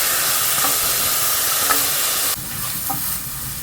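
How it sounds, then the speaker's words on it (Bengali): Vegetables sizzling in hot oil inside a heated cooker, a steady loud hiss with faint stirring scrapes and small pops, no voices. "আগে সবজিগুলো একটুখানি ভেজে নিচ্ছি।"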